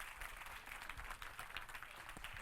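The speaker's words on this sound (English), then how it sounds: "if you guys can give her a round of applause" A workshop audience at a Dharma gathering gives a round of applause, a soft, even patter of many hands clapping that continues for a couple of seconds, faint and without talk.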